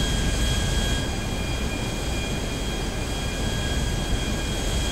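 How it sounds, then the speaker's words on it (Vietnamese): Airplane engines roar in GTA V, a steady broadband drone with constant loudness and no talk over it. "Máy bay nha."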